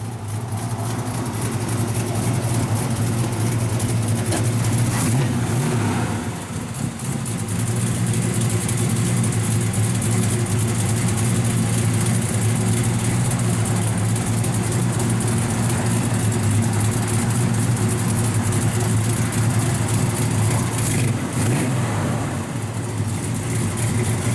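A 1965 Chevy II Nova's 350 V8 with aluminum heads, headers and dual exhaust idles steadily with a deep, lumpy exhaust burble through the dual pipes, close by and loud, with a brief dip midway.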